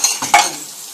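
Plates and dishes are washed by hand, with close wet splashing, rubbing and light clinks of crockery in a short burst that then settles into a softer running-water hiss.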